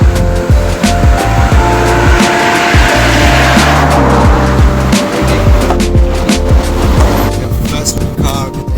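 A car driving along a road in Georgia on the way to the Vardzia caves, loud steady engine and road rumble heard from inside the vehicle, with shifting tone and rattles throughout.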